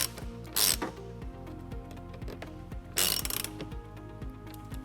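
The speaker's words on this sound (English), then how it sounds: "Then we'll tighten it up using a 10mm socket." A ratchet wrench with a 10mm socket tightening bolts for a trailer wiring harness on a 2007 Dodge Nitro, rapid close pawl clicks in repeated strokes with two louder bursts of scraping.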